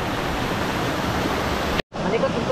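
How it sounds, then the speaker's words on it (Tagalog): Turbulent river water rushes in a strong, continuous broadband roar close by, cutting out briefly near the end before the steady rush resumes. "Malikot yung tubig."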